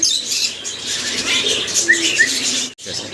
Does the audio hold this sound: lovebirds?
yes